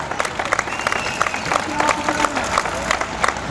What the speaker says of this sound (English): The crowd gives both teams a big round of applause here.